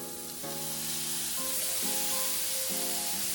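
Water is added to a hot, rather dry wok of stir-fried pork, air-dried cucumber slices and chilies. Steady sizzling and hissing play beneath a melodic background tune.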